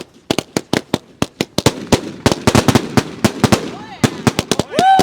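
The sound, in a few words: New Year's Eve firework cake, 49 shots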